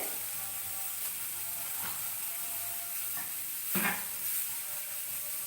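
Mustard seeds and urad dal sizzle in hot oil as tempering for a village-style green gram curry: a soft, steady crackling hiss with a brief louder pop and flare near the end, and no voices.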